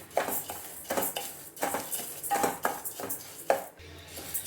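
A spoon scrapes and clinks against a pan as millets and cumin seeds are stirred while dry roasting, producing repeated soft metallic scrapes in an uneven rhythm, close and moderately quiet.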